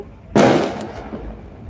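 One sharp, loud firecracker burst nearby, its crackling echo fading quickly into quiet.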